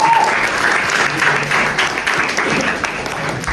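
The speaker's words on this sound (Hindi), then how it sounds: "मैं सभी स्टूडेंट्स को, आर्टिस्ट को स्टेज पर बुलाता हूँ। जोरदार तालियां।" Loud, sustained audience applause fills the hall as student actors are called onto the stage after a school play, dense clapping running steadily without a break.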